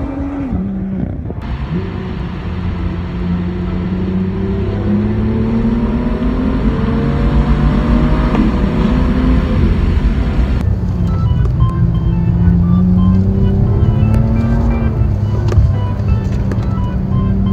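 BMW M2 six-cylinder engine pulling steadily through the gears, a smooth rising and falling engine note heard from the cabin, loud and constant with a gear change partway through.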